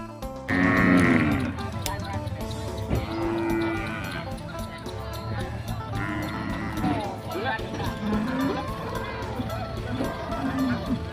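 Cattle moo repeatedly at a Thai livestock market in Isan, several loud drawn-out calls spread across the scene over a busy background of people talking nearby.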